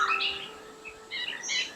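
A long-tailed broadbill calls from forest cover with bright, high chirping phrases in two bursts separated by a short pause, set against a faint steady hum.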